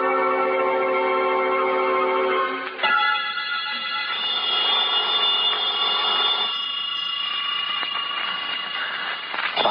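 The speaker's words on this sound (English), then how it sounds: "when the phone rang" A telephone rings as a radio drama sound effect, a steady run of bright, repeating bell tones that changes character partway through and keeps sounding to the end, loud and close with no voices.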